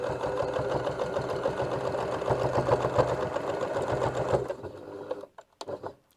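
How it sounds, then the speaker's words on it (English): A sewing machine stitches laundry bag fabric with a rapid, rhythmic mechanical chatter for several seconds, then stops, leaving a few faint handling clicks as the fabric is readjusted. "So sew a little bit, stop and readjust it, and then sew a bit more."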